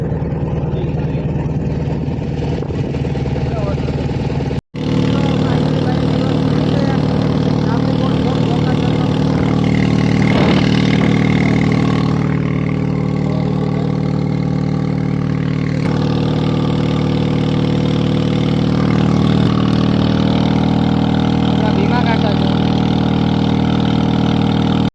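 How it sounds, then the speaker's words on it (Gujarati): A boat engine runs loud and close with a steady low droning rumble during a crossing to the far bank near Velan village in Gir Somnath, with voices talking over it throughout. "જો ભાઈ બોટ ચાલુ થઈ છે"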